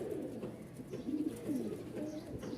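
Pigeons, fancy and racing birds kept in a loft, coo in soft, low, rolling calls that overlap continuously, close by and moderately loud, with no talking.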